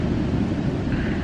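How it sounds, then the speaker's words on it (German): Wind at the seaside in Sri Lanka, with waves breaking nearby, makes a steady, loud, rushing roar that buffets the microphone; no voices are heard. "Hier ist ein bisschen windig."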